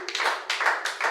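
A church congregation claps in acclamation, brief, dense bursts of many hands coming in three quick swells, loud and close with no voices over them.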